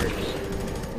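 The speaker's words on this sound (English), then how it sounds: "Who the heck is shooting me?" A brief burst of rapid gunfire aimed at the player in a F.E.A.R. 3 multiplayer match, loud and close for about a second.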